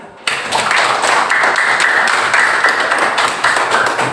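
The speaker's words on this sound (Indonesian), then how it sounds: "Jadi beri tepuk tangan lagi untuk Salih" Students in a classroom break into applause for a classmate, a sudden, steady, fairly loud patter of many hands clapping together that keeps going for several seconds.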